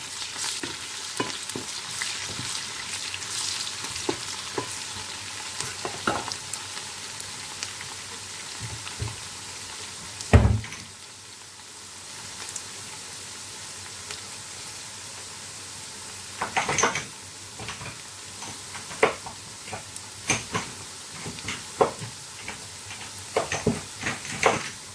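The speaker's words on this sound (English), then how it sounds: "Then I'm going to stir the onions." Onions frying for Nigerian jollof rice, a steady sizzle and crackle throughout, broken by the scrape and clatter of a spoon stirring the pot.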